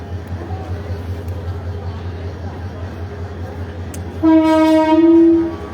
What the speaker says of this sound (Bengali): 2903 নিয়ে দোলনচাপা এক্সপ্রেস প্ল্যাটফর্মে প্রবেশ করলো।